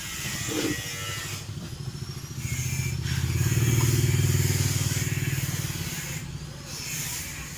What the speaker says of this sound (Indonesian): Ini gasnya saya pelintir pelan-pelan.